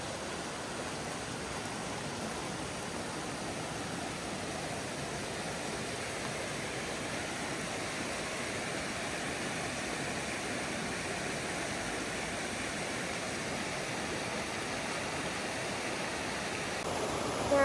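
Steady rushing water of a river flowing over stones in a Scottish glen, a continuous broadband wash that holds an even level throughout with no voices.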